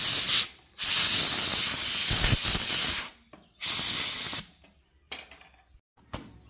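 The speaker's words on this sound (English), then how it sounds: "we want to make sure that we blow out any dirt and debris that's down in the socket" Compressed air blasts into the spark plug sockets of a 1951 Farmall Cub engine, clearing out dirt: three loud hissing bursts, the first two long and sustained, then shorter fainter puffs close by, with no talking.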